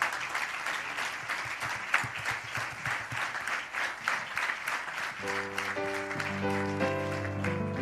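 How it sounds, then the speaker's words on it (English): A church congregation claps in praise, steady rhythmic hand claps in unison, fairly loud and continuous, with sustained organ or keyboard chords entering under the clapping toward the end. "Give the Lord another hand clap of praise."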